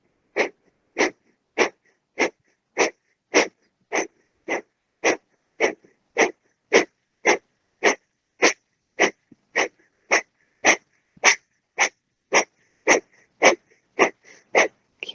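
Rhythmic yoga breathing exercise: about two dozen sharp, forceful nasal exhales in a steady, evenly spaced pulse roughly twice per second, close and clear with silence between each breath.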